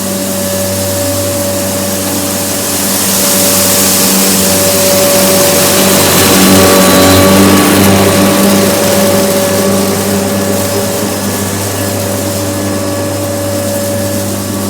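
A Kenmore upright vacuum cleaner runs with a loud, steady motor whine and hum, close and unbroken, swelling slightly as it gets going.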